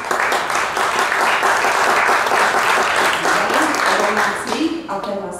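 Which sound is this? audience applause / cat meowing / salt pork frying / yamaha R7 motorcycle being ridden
audience applause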